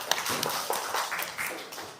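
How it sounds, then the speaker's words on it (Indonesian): A classroom of students claps for the first group after its presentation, a brief scattered round of hand claps at moderate level. "Berikan tepuk tangan kepada kelompok 1 yang telah berani tampil ke depan"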